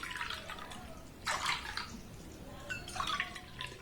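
Water pours into a steel bowl in a home kitchen with splashing, trickling bursts, quiet and close, coming in a few short pours.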